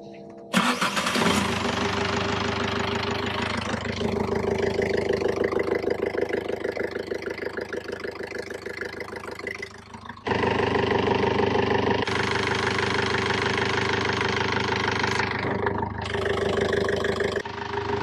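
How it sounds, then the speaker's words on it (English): A Yanmar 4JH3E marine diesel on a boat cranks briefly and catches, then settles into a steady, loud, close idle with a short dip in level before running on evenly. "we'll fire the engine up again"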